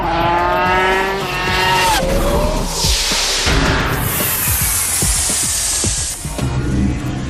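A 3-litre V10 racing car engine spinning up to around 18,000 rpm screams past at high revs, with sweeping pitch changes, passing whooshes and tire squeal, loud and continuous.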